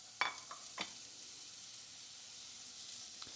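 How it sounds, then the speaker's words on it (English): Onions frying in a teaspoon of coconut oil in a pan give a faint, steady sizzle. Two sharp clinks of utensil against the pan cut in near the start. "about a teaspoon of coconut oil into a pan. I'm going to add my onions"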